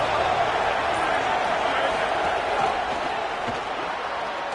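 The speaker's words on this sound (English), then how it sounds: "This crowd ready to make its presence known." A large stadium crowd roars during an American football game broadcast, a dense sustained wash of cheering heard throughout without break.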